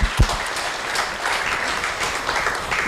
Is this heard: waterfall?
no